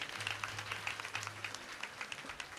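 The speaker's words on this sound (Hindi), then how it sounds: "इनके लिए एक बार जोरदार तालियां हो जाए।" Applause from an audience at an evening kirtan gathering honoring a guest: a steady patter of many hands clapping at moderate distance, fairly soft, with a low hum underneath and no talking.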